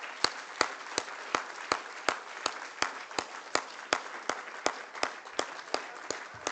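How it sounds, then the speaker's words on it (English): Rhythmic, evenly spaced claps from an audience at Nairobi Arbitration Week acknowledging the joint hosts, a steady beat of sharp claps over a soft bed of applause lasting several seconds. "We'd like to acknowledge them with a round of applause."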